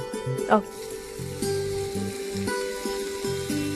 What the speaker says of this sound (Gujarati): આપણે બટરમાં પાઇનેપલને સોતે કરવાના છે